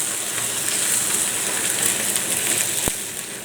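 A ham and sausage omelette fries in a pan with a steady, close hiss of sizzling that holds evenly throughout, broken near the end by one sharp tap.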